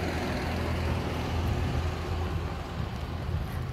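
Cars pass by on a windy day during an outdoor walk, giving a steady, continuous broadband rumble and whoosh that mixes with wind noise and holds at an even level throughout, with no talking.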